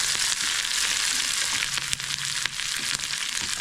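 Ginger and green chili sauté in a hot pan for a Tamil pickle, giving a continuous bright sizzle with occasional spoon clicks and scrapes, close and fairly loud, no talk.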